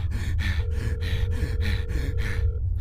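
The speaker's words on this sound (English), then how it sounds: "Why are you breathing so hard?" Heavy, rapid breathing in a horror video game featuring Ronald McDonald: a close, loud run of about six rhythmic panting breaths over a low steady hum, with no talking.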